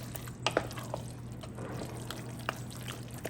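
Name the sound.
pouring noodles back into stock pot and stirring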